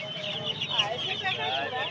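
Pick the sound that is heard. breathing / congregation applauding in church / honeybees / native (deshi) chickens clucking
native (deshi) chickens clucking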